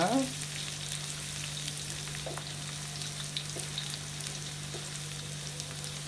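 Onions sauté in hot oil in a pan for chicken varuval, giving a steady, even sizzle with a few faint stirring clicks over a constant low hum.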